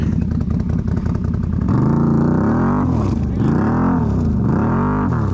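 A 2021 Can-Am Renegade 1000 XMR ATV stuck in mud, its engine revving hard and steady with rising and falling pitch sweeps, loud and close, while people talk over it.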